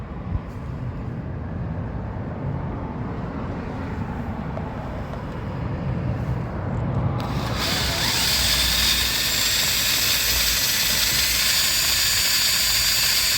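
A power drill fitted with a 4-fluted mill bit boring out a broken bolt extractor from a Peugeot 207 wheel nut, a steady, loud grinding whir that turns sharper and more high-pitched partway through.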